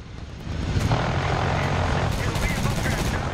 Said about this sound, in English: Hopefully the helicopter does a lot of work for us.